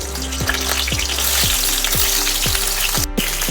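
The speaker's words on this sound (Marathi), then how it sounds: "भरून घेतलेली आता वांगी टाकायची आहेत आपल्याला।" Stuffed eggplants sizzle steadily in hot oil with mustard seeds and cumin, a close, continuous frying hiss with soft rhythmic ticks and pops.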